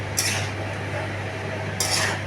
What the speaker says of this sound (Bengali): এটা একটু নাড়াচাড়া করি, একটু গরম হলে এটা ভালো হবে লাউ তরকারি।